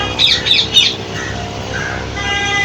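A parrot on a sunny rooftop gives three loud, harsh squawks in quick succession, followed by softer chirping calls against steady background noise.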